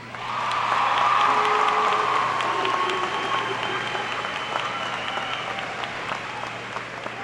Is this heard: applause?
yes